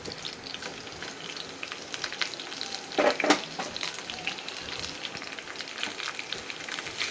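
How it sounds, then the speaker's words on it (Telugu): Coriander leaves and curry leaves fry with green chillies in a hot pan for a tomato chutney, giving a dense, continuous sizzle with crackling spatters and a louder burst of stirring midway. "ఇప్పుడు కొంచెం కొత్తిమీర కరివేపాకు ఫ్రై చేసుకుని తర్వాత టమాటాలు వేసుకుందాం."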